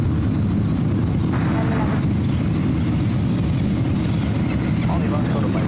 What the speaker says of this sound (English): Air Canada Flight 562 coming from Vancouver.